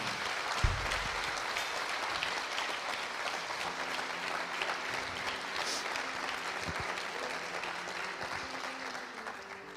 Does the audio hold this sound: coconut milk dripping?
no